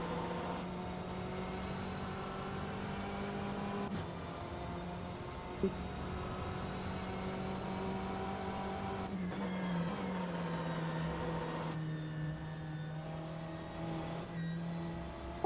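A BMW M8 GTE race car in rFactor 2 at Spa, engine droning at full throttle with a steady high pitch that shifts down around a gear change, continuous and alone without talk.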